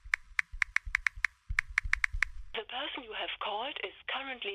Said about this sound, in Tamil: போன் அடிச்சாலும் எடுக்க மாட்டேங்கிறானே